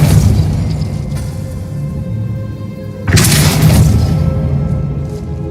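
A Depulso spell cast in the video game Hogwarts Legacy, heard as a single loud, breathy burst partway through, set against a steady rumbling backdrop of game ambience.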